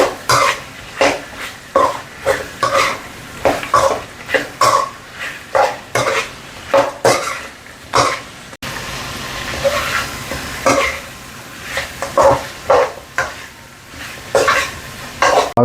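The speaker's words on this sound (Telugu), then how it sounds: "ఈ పొడిని ఇందులో వేసి బాగా మిక్స్ చేసుకోవాలి" Ground spice powder being stirred into chicken fry in a pan: a long series of rhythmic scraping stirring strokes over a faint sizzle, with a brief break midway before the strokes resume.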